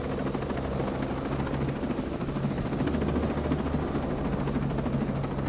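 A helicopter's steady, dense rotor roar in the video game Ghost Recon Breakpoint, loud and close, holding constant throughout with no voices.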